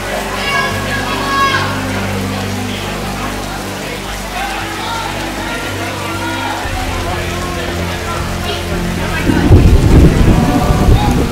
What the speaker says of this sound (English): Wow, it's awfully raining.